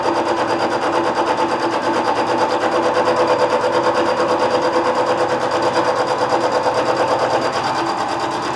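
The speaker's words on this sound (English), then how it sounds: "Even though this is only a turret mill, it's quite a sturdy machine. It can take a reasonable cut." A sturdy turret mill fitted with a Ford International arbor cuts metal in a loud, steady, rapidly pulsing mechanical churn that runs unbroken throughout.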